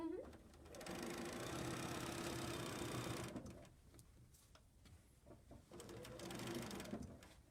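A sewing machine stitches a top in long loud steady runs with a brief pause between them, the mechanical whir close by.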